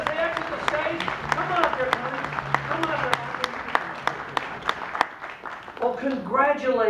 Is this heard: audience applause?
yes